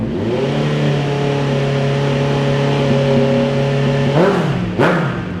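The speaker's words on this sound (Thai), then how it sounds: "เดี๋ยวฟังเสียงท่อคันนี้กัน" A 2017 Honda CBR650F with a genuine carbon aftermarket exhaust idles loudly and steadily up close, then gives two quick sharp revs near the end, each rising and falling fast.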